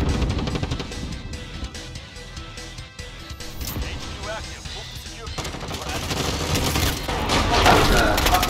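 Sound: gunshot in a shooter video game

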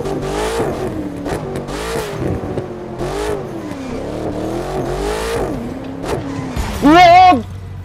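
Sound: Maserati Alfieri engine revving in video game The Crew 2

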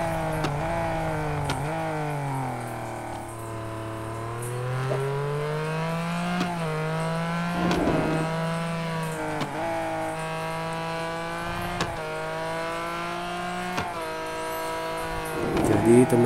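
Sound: race car engines in the video game Real Racing Next

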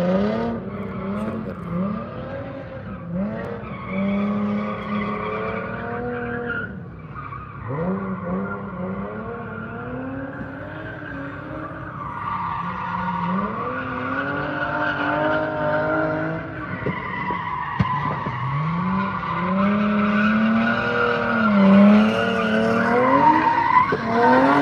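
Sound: car drifting with skidding tires at a drift park

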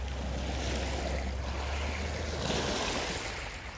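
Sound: sea waves

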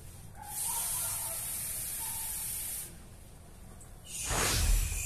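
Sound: pouring more water into pot for shrimp broth

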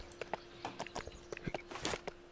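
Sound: horse hooves clip-clopping in the video game Lego Worlds

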